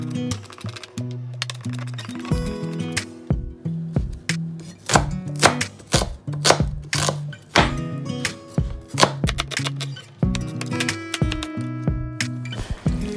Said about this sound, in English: First, mince the garlic and cut the onions into cubes.